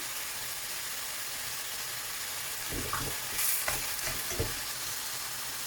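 Vegetables and onions frying in olive oil for a Moroccan-Asian briouat filling, a loud continuous sizzle close up, with occasional scraping stirs near the middle and no talking.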